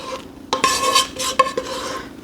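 Metal spoon scraping and clinking against a pan while rice pilaf is scooped into a bowl, a close run of quick scrapes and taps.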